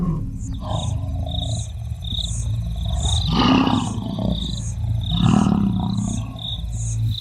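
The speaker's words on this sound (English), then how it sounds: "With a roar that resonates for 8 kilometers over the plains, their presence is heard even where it can't be seen." A lion roars on open plains, two deep swelling roars rising out of a quieter rumbling background, with a faint, regular high chirping pulse running through the scene.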